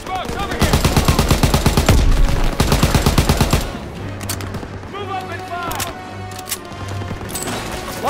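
Dense automatic and rifle gunfire from the World War II shooter Call of Duty: WWII, loud rapid bursts for the first few seconds, then scattered distant shots over a low rumble, with voices talking.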